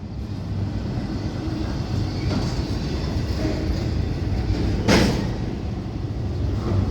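A freight train with a slug locomotive slows to a stop, a steady low rumble and grinding roll running throughout, with a brief sharper burst of noise near the end.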